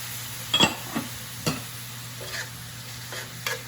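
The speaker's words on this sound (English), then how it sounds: "Deglazing the pan here." Beer poured into a hot pan of shrimp to deglaze it, with a steady low sizzle under repeated scraping strokes of a utensil against the pan, close and clear without talk.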